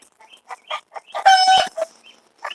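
Chickens cluck in short separate bursts around a garden, with one louder, longer squawk in the middle and quieter clucks before and after, close by and with no talk over them.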